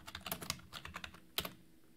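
Name being typed on a computer keyboard for a Python string exercise: a quick, close run of light key clicks in an irregular rhythm, with a sharper burst near the end and no talking.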